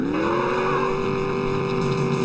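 A car engine revving steadily in the driving game Enviro-Bear 2000, a loud, continuous motor drone with a sustained tone that slowly rises in pitch.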